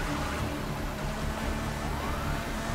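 A police car siren in Need for Speed Heat wails steadily amid loud car engine and road noise, close and continuous throughout.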